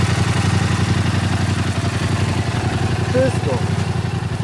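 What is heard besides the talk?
Yamaha MT-07 motorcycle engine idling, FMF exhaust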